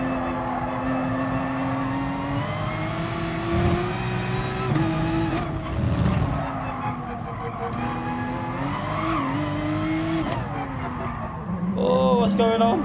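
Race cars, a Porsche among them, in GT Sport, with loud engine drones that rise and fall through gear changes and tires squealing in a skid, all under someone talking.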